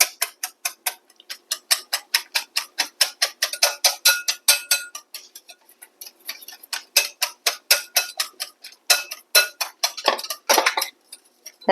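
Potato pieces are stirred in a cooking pan while making a spinach snack. A spoon makes rapid, steady clicks and scrapes against the pan throughout, with no one talking.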